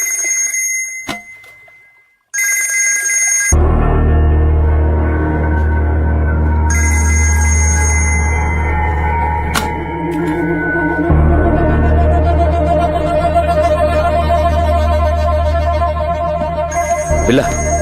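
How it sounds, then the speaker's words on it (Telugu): A phone rings with an incoming call in a dramatic film scene, its repeated electronic ringtone pattern loud and continuous after a brief quiet start, layered over a steady low rumbling background. "రషీద్ బై ఫోన్ ట్రై చేస్తున్నాడు"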